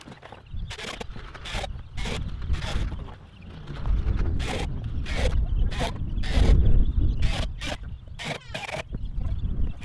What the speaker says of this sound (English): Quickly screwing down all of the Ondura Premium panels